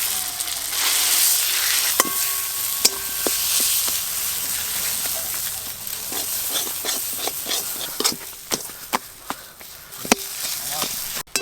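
Mashed green pea paste with spices drops into hot ghee and asafoetida in a pan, hissing and sizzling steadily, with sharp clinks of a spoon against the pan and a voice talking now and then.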